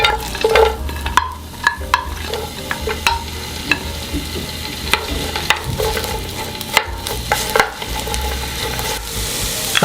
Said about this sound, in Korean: 기름을 1스푼 정도 먼저 두른 후에 양파를 먼저 볶아주세요